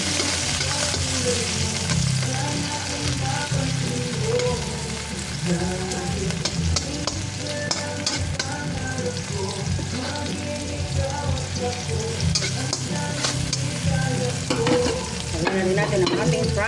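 Tomatoes and water spinach stir-fried in a pan, a steady loud sizzle with continuous scraping and stirring clatter running throughout, no talk over it.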